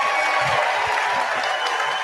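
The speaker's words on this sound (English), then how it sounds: "How about a big round of applause for our panelists?" Audience applause for panelists at a 2019 radio town hall, a steady wash of many hands clapping that fills the clip, loud and close with no pauses.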